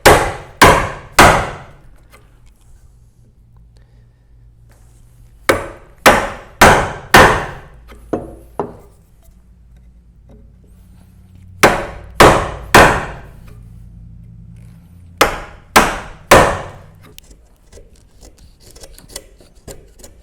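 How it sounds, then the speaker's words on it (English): Mallet blows drive a chisel, chopping a mortise in a wooden Moravian workbench. Sharp, loud knocks land in clusters of three to four, separated by quiet pauses. "have our mortise completely chopped"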